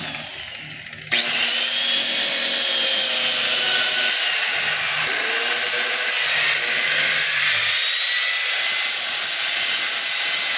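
A DeWalt DWE8200PL 4-inch angle grinder with a faulty, noisy bearing starts up and runs loud and close, giving a continuous high whine with a gritty rattling edge and slight pitch wavers.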